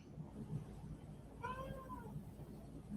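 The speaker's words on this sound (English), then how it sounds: "I hear a cat." A cat meows once in a drawn-out, wavering call, moderately close, over a steady low background hum and scattered faint knocks in a room.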